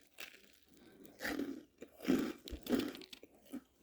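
Biting into and chewing a fried bologna sandwich, producing several close, crisp crunches in an uneven rhythm, quiet overall but clearly up close to the mouth.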